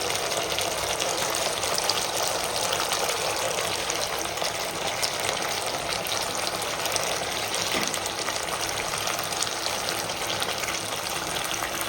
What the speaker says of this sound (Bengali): এই কষানোর মধ্যে আমি এবার এক এক করে মাছটা দিয়ে দেবো